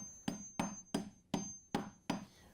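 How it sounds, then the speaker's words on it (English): A hammer taps an LG/Kenmore washer seal into place, striking six sharp, evenly spaced blows that each ring briefly before the next tap. "We're going to set it down nice and flat and get it started with the hammer."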